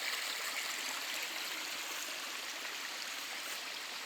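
Spring water flows straight out of the ground in the taiga, a steady, close hiss and babble of running water with no voices.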